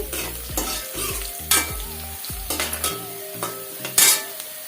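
Onions frying in a pan with turmeric for a chicken dish while a spoon stirs, giving loud scraping strokes in an uneven rhythm over a constant sizzle, close up with no talk.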